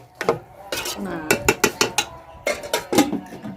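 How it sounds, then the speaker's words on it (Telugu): A metal spoon scrapes and clinks rhythmically against a pot of pigeon pea curry, a dozen or so sharp knocks in quick succession, up close. "ఒక్కపారి ఇట్లా కలిపి మూత ముచ్చైతే ఉడకబెడదామండి."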